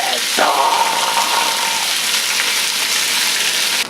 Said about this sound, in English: We also sizzle fucking vegetables of every kind